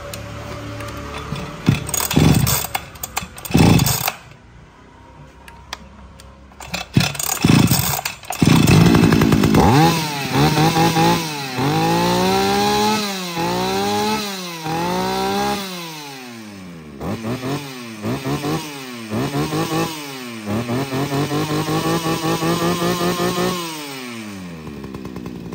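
A model 031 chainsaw missing a cover is pulled a few times, then revs repeatedly in rising and falling bursts before idling, loud and close with no talking.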